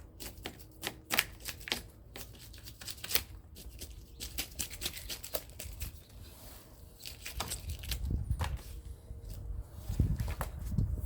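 Sharp knife scraping scales off a carp's belly side, a rapid series of crisp scratchy strokes in uneven bursts with a few duller thuds, close and fairly quiet, with no talk.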